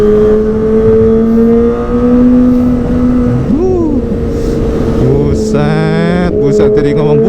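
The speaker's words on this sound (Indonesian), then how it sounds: "Sumpah enak banget knalpotnya nih." Kawasaki ZX-25R motorcycle with a Prospeed Shark Black exhaust revving hard, a loud close whine that holds steady, then jumps briefly before climbing again, while a person talks over it.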